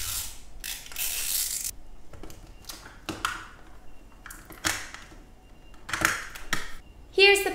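Someone opens the packaging of a Zuru 5 Surprise Mini Brands Little Shop groceries toy set, producing a series of close, irregular crinkling, clicking and tearing bursts with short pauses between them.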